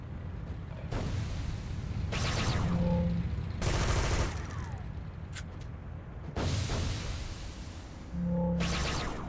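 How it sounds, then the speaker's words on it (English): Bursts of rapid gunfire in a sci-fi shooter video game, several loud fusillades of a few seconds each, separated by short quieter gaps with faint electronic effects. "Blasty Pants, shoot faster"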